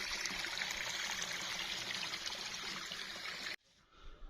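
Clear mountain stream water flowing near Panjpeer Rocks in Kotli Sattian, a steady, dense rushing trickle heard close up that cuts off abruptly near the end, leaving quieter faint flow.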